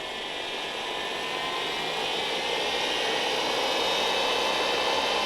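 A Jet mini lathe running, a steady whirring whine that rises gradually in intensity as it speeds up, heard alone and fairly close.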